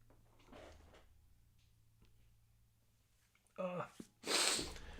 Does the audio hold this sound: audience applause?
no